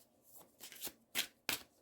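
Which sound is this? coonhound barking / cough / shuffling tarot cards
shuffling tarot cards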